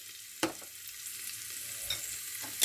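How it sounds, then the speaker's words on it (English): Carrots with turmeric, salt and chili powder cooking in a pan for oatmeal kichidi, a faint low sizzle punctuated by a few soft spoon knocks against the pan. "Carrots cooking 2 minutes"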